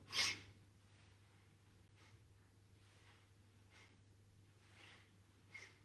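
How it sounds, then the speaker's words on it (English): Exaggerated, deliberate breathing during an exercise routine: a sharp nasal inhale at the start, then soft, rhythmic breaths repeating about once a second, quiet and close with a low steady hum beneath. "I'm overdoing the breathing so you can hear me"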